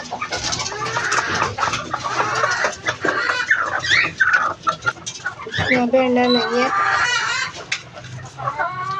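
Hens clucking in a backyard coop, a busy, overlapping chatter of fowl with a brief rooster-like call, heard close under a woman's speech as she checks for eggs.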